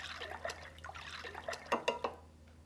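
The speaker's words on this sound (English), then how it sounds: "to this, I am going to add 12 ounces of evaporated milk" Evaporated milk poured into a small amount of whipping cream for a tres leches cake, giving soft liquid trickling and dripping with a few brief splashy clinks near the end, close and fairly quiet, no voices.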